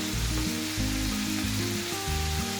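Garlic sautéing in a cooking pot for an eggplant and meat stew, giving a steady, dense sizzle that holds evenly for the whole stretch with a faint low hum underneath and no talking.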